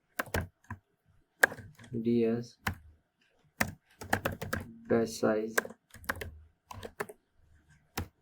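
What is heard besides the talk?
typing code on computer keyboard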